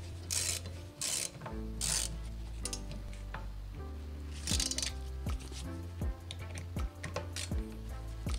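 A ratchet wrench turns a bolt into a brake caliper on a Ford Focus ST, clicking in quick, even bursts with short pauses between strokes, close up over steady background noise.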